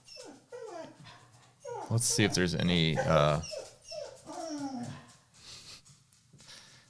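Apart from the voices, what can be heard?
dog whimpering and crying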